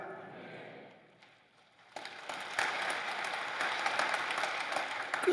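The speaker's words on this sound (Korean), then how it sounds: "젊은 사람들은 박수를 치고 난리인데." A congregation at a church worship service bursts into applause after a quiet moment, the clapping dense and sustained, heard from some distance in a large room.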